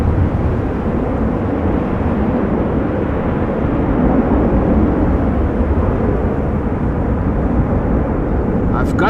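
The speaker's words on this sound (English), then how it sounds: "Some of those KLM heavies are doing some nice wheeling" KLM heavy jet airliners taxi at Schiphol airport during a storm, a continuous deep, loud rumble mixed with blustery wind noise that holds steady throughout.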